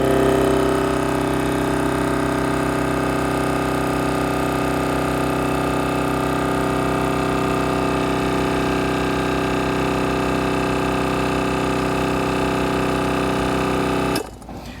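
Bulldog Winch on-board portable air compressor running steadily with a loud, constant mechanical buzz and hum for about fourteen seconds before abruptly cutting off.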